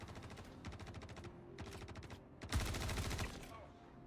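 Video game gunfire from players shooting, rapid automatic bursts in three separate volleys with short pauses between, the last one loudest and nearest.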